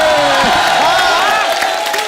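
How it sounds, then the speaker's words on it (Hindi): A studio audience on a comedy talk show bursts into loud applause and cheering, a dense continuous wash of clapping with whoops, close and full, fading slightly toward the end, with voices mixed in. "सर इसके लिए खड़े होकर ताली बनती है"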